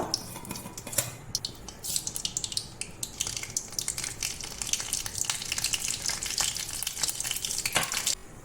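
Mustard seeds pop and sputter in hot coconut oil for a tapioca tempering, making a dense run of sharp, close crackles over a steady frying hiss that builds and stays busy throughout.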